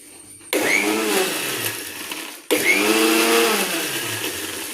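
A kitchen mixer grinder whirs loudly in two steady bursts of about two seconds each, with a brief pause between them as it is switched off and on again while grinding.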